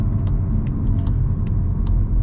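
A 2023 VW Golf R rolls to a stop, heard from inside as a low steady road and engine rumble with light ticking clicks above it.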